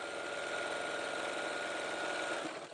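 A sewing machine runs steadily at close range, a continuous even whirring hum with rapid needle chatter that slows slightly at the very end, no voices.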